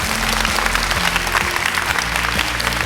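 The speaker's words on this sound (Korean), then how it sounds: "여러분들 박수 부탁드립니다." Audience applause at a 2025 book concert lecture in a hall, steady, dense clapping that holds loud and even throughout, with no voices over it.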